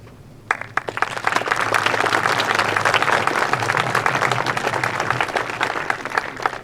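A crowd at a tourism event breaks into sustained, dense applause that starts abruptly and keeps up steadily, with many hands clapping at once.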